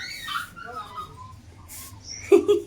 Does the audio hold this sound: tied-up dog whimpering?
yes